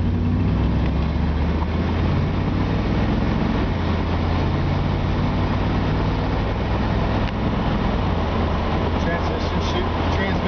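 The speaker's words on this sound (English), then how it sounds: "Engine fires right up." A 1977 Corvette engine runs with a steady low rumble and droning harmonics, and its pitch shifts slightly after a few seconds. Someone talks over the engine noise.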